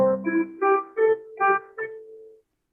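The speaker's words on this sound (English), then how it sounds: "Here we have the piano version. It sounds like this." A piano plays a short phrase of about six notes with the sustain pedal held, each note ringing on and blending into the next before the sound cuts off cleanly.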